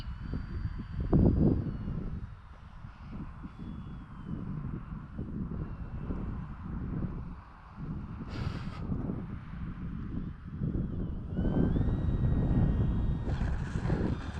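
An E-flite T28 Trojan 1.2 m RC model airplane flies over an outdoor runway, its electric motor droning steadily at a distance amid wind noise, with a couple of brief higher whines as the throttle changes.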